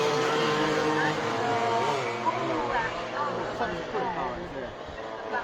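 Stock scooters race at Cadwell Park, their high-pitched engines whining and shifting tone as they cross the finish line, steady and fairly close, beneath continuous commentary.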